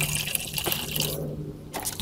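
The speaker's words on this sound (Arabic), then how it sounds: "واملى ميه" Water pours steadily into a container for potting a plant cutting, a continuous close splashing fill that briefly drops away before resuming.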